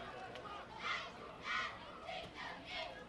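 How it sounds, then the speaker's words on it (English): Cheerleaders and fans cheer at a middle school football game, with rhythmic bursts of chanting voices rising and falling in a repeating pattern, moderately distant and fairly faint. "The cheerleaders are still being quite loud and raucous."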